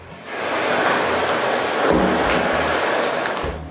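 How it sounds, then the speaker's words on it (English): A vacuum cleaner runs over the exterior of a table saw, giving a loud, steady broadband whoosh that shifts slightly in tone as the nozzle moves, close and alone for a few seconds. "I also vacuum the exterior"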